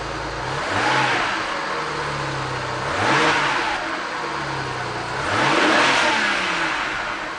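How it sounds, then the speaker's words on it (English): A BMW N54 twin-turbo engine revs up three times in a row, each surge rising and falling back to a steady idle, loud and close. "let's start the engine and see what happens to the gauge"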